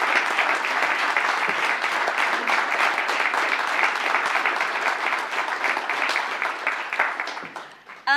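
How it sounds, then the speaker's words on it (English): A dense, sustained round of audience applause rises in an awards ceremony hall for an honored association member and holds steady before tapering at the end. "Give her another round of applause."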